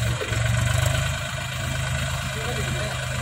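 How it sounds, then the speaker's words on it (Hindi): Mahindra 265 DI tractor hauling a heavily loaded trolley through soft soil, a steady low engine drone under strain, close and continuous, with a voice speaking over it. "ट्रैक्टर पूरा जोर लगा रहा"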